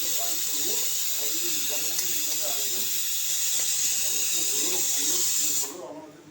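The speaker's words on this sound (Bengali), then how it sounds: "এবার প্রেশার কুকার" A pressure cooker holding chicken stew gives off a loud, steady, close steam hiss that runs for several seconds and then stops abruptly, leaving quieter room noise.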